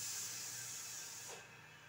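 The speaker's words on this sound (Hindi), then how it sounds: "कुकर खुल रहा है अब खाने का" Steam hisses loudly and steadily from a pressure cooker being opened in a home kitchen, then drops off abruptly to a softer residual hiss near the end.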